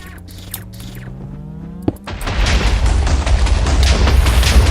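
Heavy explosion blasts in the Stoneblock 2 Minecraft modpack: a sharp boom near the two-second mark, then a dense, loud rumble of continuous detonations filling the rest of the clip, with no talk.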